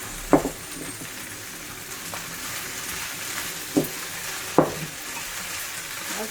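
Char kway teow flat rice noodles fry with onion leaves in a steady, close sizzle, broken by three sharp clinks of a spatula or utensil against the pan and with no talking.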